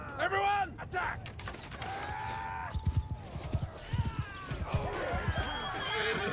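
Horses neigh and whinny repeatedly amid a Mount & Blade II: Bannerlord battle, with hooves clip-clopping and combat sounds layered underneath.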